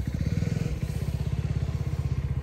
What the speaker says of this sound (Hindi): चलो बाइक पे चलते हैं।